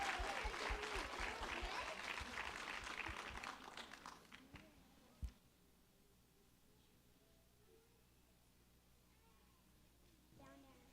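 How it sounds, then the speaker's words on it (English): A crowd claps steadily for several seconds at a youth ambassador competition on stage, then the applause fades out into a quiet room with a faint thump and murmurs. "please join us on the stage and give him a round of applause."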